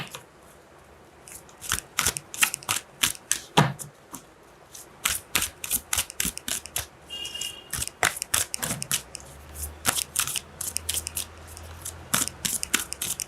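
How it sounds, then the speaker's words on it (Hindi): Tarot cards are shuffled by hand in a rapid run of crisp, close riffling snaps, faint but steady over about thirteen seconds with no talking. "One more shuffle jam."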